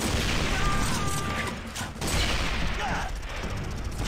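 Dense gunfire and booming missile blasts from the video game Armed & Dangerous rumble continuously and loudly, a heavy chaotic barrage of combat noise with a voice faintly mixed in.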